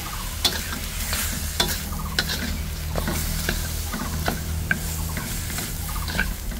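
Pieces of native chicken fry in their own rendered fat for tinola, a constant close sizzle with regular light clicks of a spoon or spatula stirring the pan.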